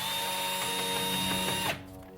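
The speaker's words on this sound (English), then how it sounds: "with the help of my drill and being careful, I was able to get the little screw out" A power drill whirs steadily, close and loud, while backing a small stuck screw out during a van brake job, then cuts off abruptly near the end.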